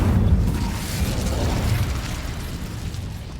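The Incendio fire spell in Hogwarts Legacy erupts in a loud, close, whooshing burst that slowly fades over a few seconds.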